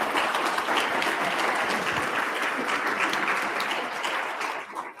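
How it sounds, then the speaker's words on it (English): An audience gives the speaker Caroline a sustained round of applause after a lunchtime history talk, steady clapping that fades slightly near the end. "let's give Caroline another round of applause."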